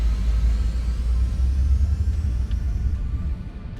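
A low, steady spaceship engine rumble in the video game Starpoint Gemini Warlords hums continuously, loud and even, with a faint high whine drifting on top.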